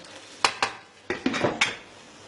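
Pots and serving utensils clatter while achari chicken is dished out, a series of about six sharp, close metallic knocks and scrapes in uneven rhythm, with no voices.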